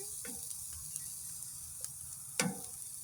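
Potatoes and chanterelle mushrooms fry in a pan with a steady, low sizzle, broken by a few soft stirring scrapes and one slightly louder clatter near the end.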